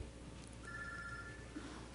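A telephone rings briefly in a conference presentation room, faint and distant over a steady background hum.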